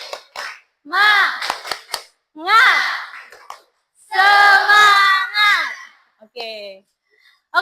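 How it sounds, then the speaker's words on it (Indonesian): A group performs an Indonesian clapping chant, sharp claps punctuating loud, shouted call-and-response voices in short bursts separated by pauses. "Tepuk semangat."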